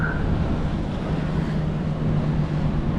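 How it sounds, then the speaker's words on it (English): A steady motor hum rolls over broad wind and water noise as a boat runs past off Jekyll Island, fairly loud and constant throughout. "Got a yellow boat flying past us with the lights flashing on it."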